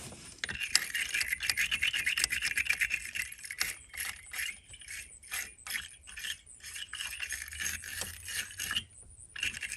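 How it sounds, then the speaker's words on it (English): Metal brush scraping and rasping inside a 2018 Ford Edge battery terminal clamp, close up, in short uneven strokes with light metallic jingles. "So we're just going to kind of scratch it around in there. Clean it up a little bit."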